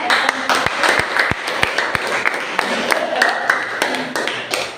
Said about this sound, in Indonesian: Sebelumnya kita beri aplaus ya.